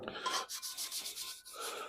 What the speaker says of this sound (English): we'll scrub this down to get the corrosion off